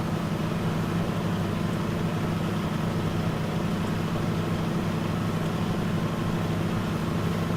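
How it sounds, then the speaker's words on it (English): Truck engine from the driving game Euro Truck Simulator 2, a steady, continuous low drone cruising along a straight bridge, even in loudness throughout with no talking. "I just like driving like this because I like listening to the truck."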